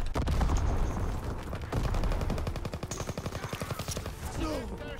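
Rapid machine-gun bursts from a Call of Duty WW2 match fire in a steady automatic rattle, loud and close, with scattered single shots and other battle noise mixed in.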